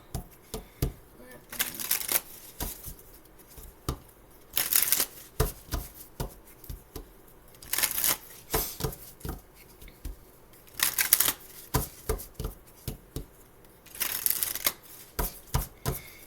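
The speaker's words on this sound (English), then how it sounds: "I like to shuffle all the cards at once and then get into the reading" A deck of tarot cards is shuffled over and over, with rapid riffling bursts and soft taps coming in a steady rhythm, close and fairly quiet.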